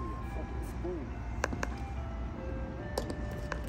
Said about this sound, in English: You ever had ice cream truck pull up 9 p.m.?